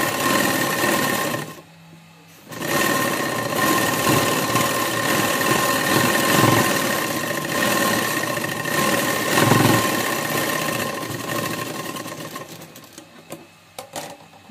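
A sewing machine stitches the side seam of a burqa, running in a loud, steady close whir with a short pause early on and another near the end.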